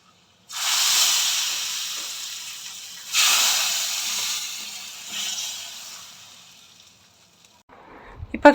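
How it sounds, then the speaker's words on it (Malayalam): Mustard seeds hit hot oil for a curry tempering, letting out a loud, close sizzling hiss that surges three times and slowly fades to quiet, with a brief clatter at the very end. "ഇനിയിപ്പം നമ്മുടെ കറിക്ക് കടുകൂടെ വറുത്ത് ചേർക്കാമേ."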